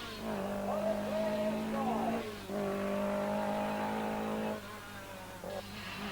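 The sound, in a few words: rally car driving round the circuit, Circuit of Ireland 1983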